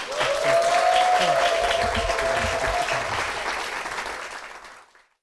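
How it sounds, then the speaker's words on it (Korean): Applause in a church gathering welcomes a deacon to the stage, a dense sustained clapping from the congregation with a held musical tone beneath, tapering off and fading out near the end. "우리 정재규 집사님이 나와 계십니다. 박수로 모시겠습니다"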